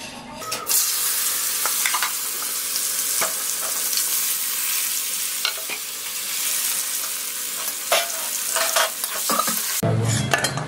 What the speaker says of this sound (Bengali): উচ্ছে ভাজবো, আর সিমটা ভাজবো, আর বেগুনটা ভাজবো